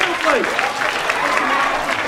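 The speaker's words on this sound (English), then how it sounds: "give her a big round of applause" Applause from an audience of children at an animal show, a continuous crowd clapping with a voice speaking briefly over it.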